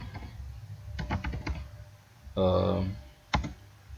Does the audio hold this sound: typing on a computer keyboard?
yes